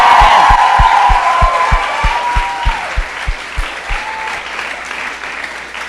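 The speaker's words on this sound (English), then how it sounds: "So can we get like a round of applause for them?" A crowd at a press event claps and cheers loudly, with a high whoop early on, then the applause thins out into scattered claps and fades.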